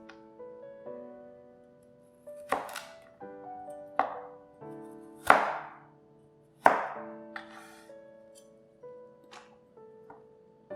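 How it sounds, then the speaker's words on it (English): Carrots are sliced thin with a knife on a cutting board, giving a slow series of crisp, separate chops with quiet ringing tones in the gaps between them. "Slice your carrots into about 2 mm thick slices."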